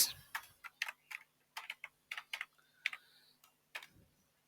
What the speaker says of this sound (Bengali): আমরা এখানে অবশ্যই ফোন নম্বর টাইপ করব